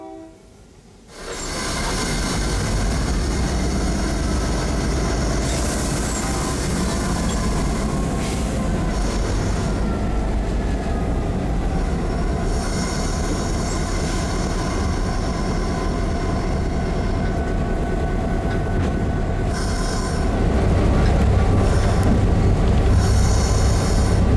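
A trio of freight locomotives on a short-line branch railroad rumbles steadily as it moves out toward a lumber mill, the engine drone loud and continuous with a brief horn-like tone and swelling volume near the end; no talking.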